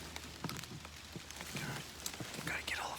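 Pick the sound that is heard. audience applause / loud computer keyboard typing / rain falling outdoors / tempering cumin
rain falling outdoors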